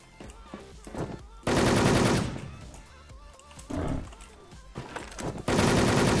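Loud automatic gunfire bursts in a shooter video game, with a sustained burst early, shorter volleys in the middle and another heavy burst at the end, mixed with game sound effects between them.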